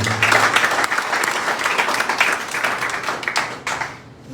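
A church congregation claps and cheers in praise of the Lord, a dense burst of applause that is loud and sustained, then tapers off toward the end.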